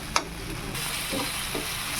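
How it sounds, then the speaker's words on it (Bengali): Boiled potato and fried soybean chunks frying in spiced masala paste with turmeric and salt, a continuous close sizzle with a few scraping stirs of the spoon, no talk. "এটাকে ভালো করে ভেজে নেব।"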